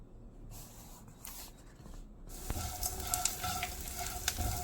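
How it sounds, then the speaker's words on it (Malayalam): Chopped onion sautéing with mustard seeds and cumin, a soft sizzle that starts quiet and swells into a fuller, crackling fry halfway through, with light stirring scrapes near the pan. "ഒരു വലിയ സവാള ചെറുതായി അരിഞ്ഞത് ചേർത്ത് കൊടുത്തിട്ടുണ്ട് അത് നമുക്ക് ചെറുതായിട്ടൊന്ന് വഴറ്റി കൊടുക്കാം"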